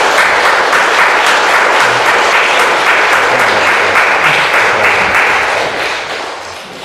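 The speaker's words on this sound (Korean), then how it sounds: "여러분 축하와 아쉬움을 함께 담아서 큰 박수로 보내주시기 바랍니다." Large church congregation at a Sunday worship service in Vienna applauding together, a dense, steady wash of clapping close by that holds strong and then tapers off toward the end.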